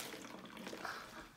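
A brief trickle of vinegar pouring into a plastic bottle, soft gurgling and splashing, fairly quiet and close.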